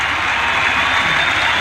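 A cricket crowd at a 1995 Pakistan versus Australia Test match applauds a batsman's fifty with a steady, even wash of clapping from the stands that holds at the same level throughout.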